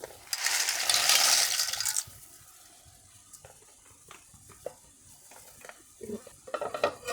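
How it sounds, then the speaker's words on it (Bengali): Dry pasta poured into a pot of boiling water, a dense rattling rush for about two seconds, followed by softer clinks and bubbling. "এই তো পানির বলক উঠেছে, এবার এটার ভিতরে পাস্তা ঢেলে দেব।"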